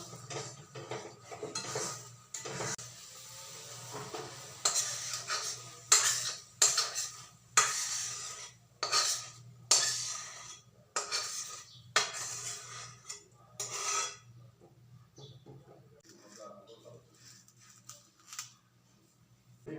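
Jujube pickle being ladled out of a cooking pan, giving a series of irregular metallic scrapes and clinks of a spoon against the pan, close and fairly loud, thinning out toward the end.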